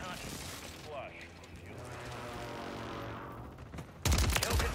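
AK-47 automatic fire in Warzone 3 rattles in a sustained burst under game sounds, ending in a loud, close cluster of shots.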